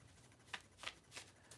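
A deck of cards is shuffled at close range, giving a few soft, quick riffling bursts spaced apart in an otherwise quiet room.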